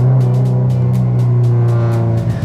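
A car engine roars steadily at close range, its low drone holding strong with a slight rise in pitch throughout.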